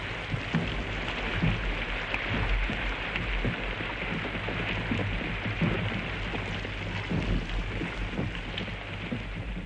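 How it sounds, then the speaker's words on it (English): Heavy, continuous rain pours steadily over a First World War battlefield turned to swamp, a dense unbroken hiss with a low rumble beneath. "It rained absolutely continuously."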